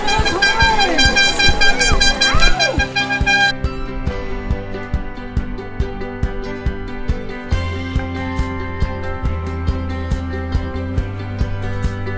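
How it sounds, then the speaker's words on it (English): Motorcycle horns honk repeatedly and overlapping at the start of a Gay Pride group ride, a dense cluster of tones, then scattered beeps continue alongside idling engines. "Let's hear some of those horns."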